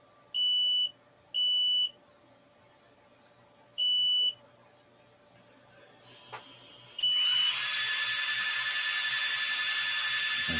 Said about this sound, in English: It's going to beep until the firmware update is complete.